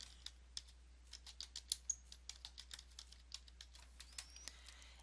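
A computer keyboard is typed on in a steady run of light, quick keystrokes. The typing is quiet and fairly close, with no speech over it.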